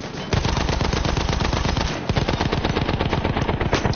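Sustained light machine gun fire in Battlefield 1, a rapid unbroken stream of loud shots with a brief gap around the two-second mark before firing resumes, no talk over it.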